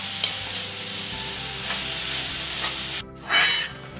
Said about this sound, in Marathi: आता गुळ घालूया याच्यात घालून मस्त छानपैकी मिक्स करूया